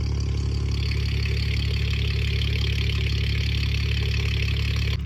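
Infiniti Q60 with a VR30 twin-turbo engine and catless full downpipes, idling with a steady, loud, deep drone and a rough burbling pulse that holds evenly for about five seconds, no voices.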